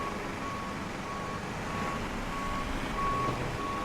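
A baggage truck pulls away on the apron in the Prepar3d flight simulator, a steady engine rumble with a repeating high reversing-style beep chirping over it, fairly constant in level and growing slightly louder toward the end.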